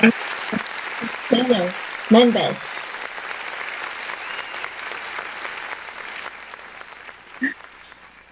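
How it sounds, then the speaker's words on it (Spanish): Applause from a studio audience on a radio show carries on through most of the stretch, moderately loud and steady, with brief speaking voices near the start and a short burst of talk near the end. "Gracias por ese gran aplauso"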